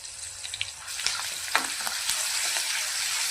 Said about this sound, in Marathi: चांगलं तेलामध्ये फ्राय करून घेऊया.